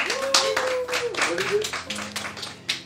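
An audience applauds at a friends' short film festival, a steady patter of clapping hands under a host's voice, with a tonal whine running through the first part.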